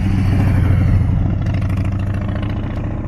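A motorcycle engine rumbles loudly nearby, its throaty drone steady and then easing slightly as it rides past.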